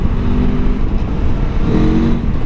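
A 2023 Aprilia Tuono V4 Factory motorcycle's V4 engine pulls steadily under acceleration, a loud, continuous close-up drone with a slight rise in pitch near the end and no talking.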